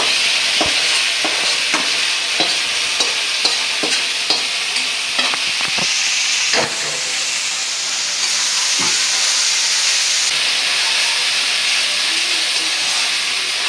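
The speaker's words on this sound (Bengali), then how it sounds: "পেঁয়াজ মরিচ রসুন ভালো করে আমি ভাইজা নিছি এখন সেদ্ধ করা শাকটা এখানে দিয়ে দিব" Boiled mixed leafy greens are stirred into fried onion, chili and garlic in a hot pan, with a series of brisk scraping strokes over a loud, continuous sizzle and hiss that carries on alone.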